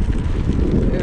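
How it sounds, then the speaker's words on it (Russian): Steady low headwind rumble buffeting a microphone while cycling across a plain in the Tian Shan near Issyk-Kul, continuous and fairly loud throughout, with faint voice-like murmur underneath. "встречный ветер"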